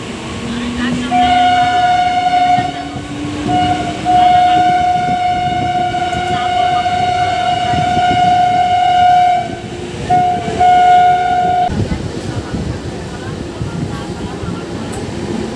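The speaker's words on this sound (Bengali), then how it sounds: "আর ট্রেন চলছে" A local train runs along the rails, its steady rumble joined by a long, loud horn blast held for about ten seconds with brief breaks, while ambient carriage noise continues throughout.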